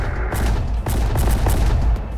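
Sustained battle gunfire in the Terminator Dark Fate Defiance video game, a dense, loud wall of overlapping shots and booms with repeated sharper bursts through the whole stretch.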